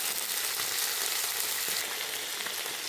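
Chopped tomatoes with cumin and mint sauté in oil in a kadai for tomato pachadi, giving a soft, steady sizzle with faint crackles, quiet and continuous with no talking.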